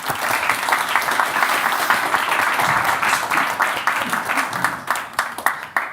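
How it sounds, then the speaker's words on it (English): A conference audience applauds a panel of researchers at an EU-Africa research and talent event, the clapping loud and dense throughout before thinning into scattered claps near the end. "let's give them one more round of applause."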